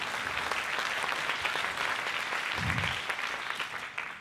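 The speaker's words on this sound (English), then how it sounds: "Please, a warm applause for Erika Kuller." Steady applause from a crowd at the 2016 Innovation Expo fills the whole stretch, dense continuous clapping at even loudness with a brief low thump partway through.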